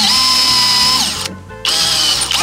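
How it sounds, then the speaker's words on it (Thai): A power drill whirs loudly in steady bursts, briefly stopping mid-way before starting up again as it drives a screw through fiber cement board. "ผมจะเจาะไปนะครับแค่ทะลุแผ่นสมาร์ทบอร์ดนะไม่ทะลุเหล็ก"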